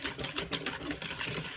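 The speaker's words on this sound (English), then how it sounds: "Just give it a couple whisks around." A whisk clicks rapidly against a bowl while nutmeg is stirred into sweet potato pie filling, a short quiet burst of steady, even scraping taps.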